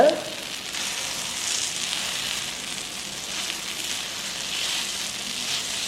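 Paneer tikka sizzles steadily on a hot tawa over medium to low heat, a continuous close crackling fry with a brief clatter at the start and no talk over it.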